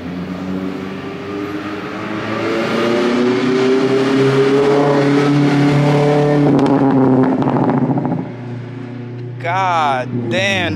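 Mazda MX-5 ND with a loud aftermarket exhaust revs close by, rising and falling in long pulls with crackling pops near the end, while people talk and exclaim throughout.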